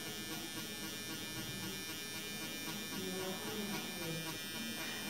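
Permanent makeup machine shading on a latex practice skin, a steady faint electric buzz running continuously with a voice talking quietly over it.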